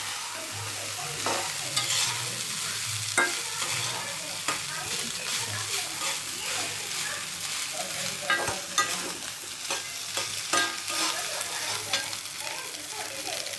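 Chicken sizzles in a hot pan while being stirred, with steady frying crackle and frequent scraping clinks of a utensil, close and fairly loud.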